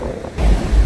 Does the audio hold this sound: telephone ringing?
no